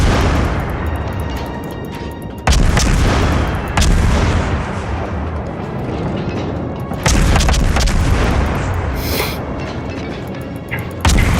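Heavy naval gunfire in World of Warships, several loud booming salvos landing at irregular intervals over a continuous rumbling battle background, with no talking.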